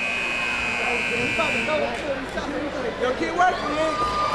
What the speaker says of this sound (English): Inbound to Rogers, shot at the buzzer, short.